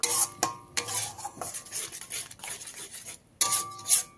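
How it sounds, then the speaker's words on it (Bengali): A metal spoon scrapes and clanks against a pan while stirring masala paste loosened with a little water for a pointed gourd, mustard and peanut curry; short rhythmic bursts of scraping with brief gaps, and no talking. "জলটা দিয়ে খুব ভালো করে মিশিয়ে নিয়ে মশলাটাকে কষিয়ে নিতে হবে।"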